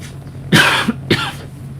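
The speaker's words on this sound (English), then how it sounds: "Excuse me, my coughing." Two sharp coughs, close and fairly loud, the second a little shorter, with a brief pause between them.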